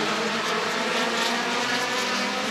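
Midwest Dash Series race cars at Rockford Speedway, their engines a continuous loud roar as the pack drives into turns one and two, with no break in the sound.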